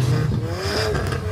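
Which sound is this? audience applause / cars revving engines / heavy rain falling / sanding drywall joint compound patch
cars revving engines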